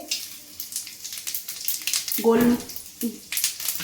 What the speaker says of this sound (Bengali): পটল আর আলু ভাজার তেলের মধ্যেই আমি ফোড়ন দিয়ে দেবো।